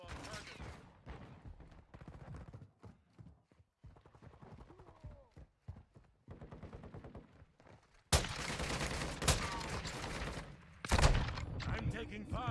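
Bursts of gunfire in MW3 Zombies, with scattered shots under people talking at first, then a louder, denser stretch of rapid firing and impacts near the end.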